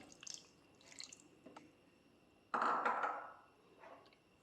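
Kudampuli soaking water poured from a small container over fish pieces in a Kerala-style fish thoran: a short splashing pour starting suddenly and fading over about a second, after a few faint drips and clinks, no talk.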